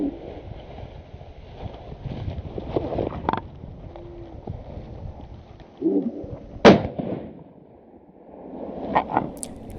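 Rifle shots ring out during a wild boar hunt in the woods, with one sharp, loud crack standing out midway over a low ambient rustle, followed later by fainter sounds.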